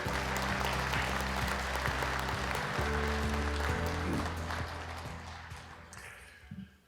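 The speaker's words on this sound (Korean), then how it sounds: "큰 박수로 환영해 주십시오." Full audience applause welcoming a speaker at a Busan Buddhist New Year gathering, thick and continuous over low background music, thinning and fading out near the end.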